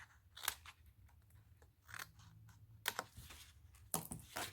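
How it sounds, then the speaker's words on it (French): Scissors snip through paper while a tea-themed paper advent calendar is being made, giving a few sharp, close cuts spaced out over a quiet room with faint background noise. "Et là, pareil, on coupe."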